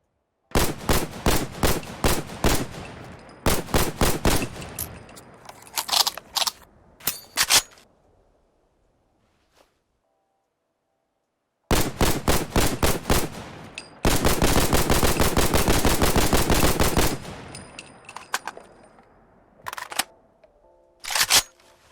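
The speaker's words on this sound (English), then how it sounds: "show off the custom animations and custom sounds for this weapon" An SKS rifle with custom sounds fires in Fallout 4: rapid bursts of sharp, loud gunshots, a pause, then more volleys including a dense sustained run of shots, followed by mechanical reload clicks and scattered single shots.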